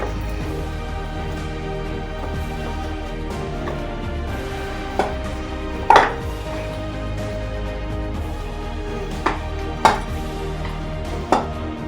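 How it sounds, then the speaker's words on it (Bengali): Knife chopping food into pieces on a board while making a semolina and potato pakora snack, a few separate sharp chops spaced apart over a steady low kitchen background hum. "এবার আমি ছুরিতে করে টুকরো টুকরো করে কেটে নেবো।"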